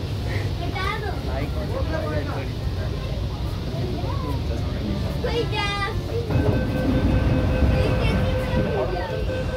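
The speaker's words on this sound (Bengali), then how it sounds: "প্যাসেঞ্জার তুলেই মেট্রো আবার ছুট লাগালো নিউ মহাকরণ স্টেশনের উদ্দেশ্যে" A Kolkata East-West Metro green line train runs underground, a loud continuous rumble and rattle with whining tonal squeals and a rising motor hum late on, steady throughout.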